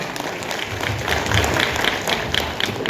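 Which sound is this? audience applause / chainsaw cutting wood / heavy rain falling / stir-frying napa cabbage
audience applause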